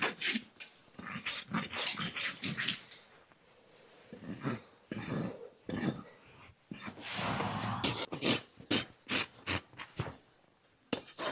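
A farrier's rasp files a horse hoof during trimming in repeated rough scraping strokes, close and loud, coming in bursts with short pauses between them.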